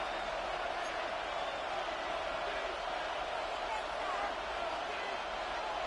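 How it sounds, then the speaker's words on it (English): Stadium crowd noise fills a Madden NFL football game, a steady broad roar of cheering fans holding constant throughout at moderate level. "This crowd into it now as we get to 3rd down"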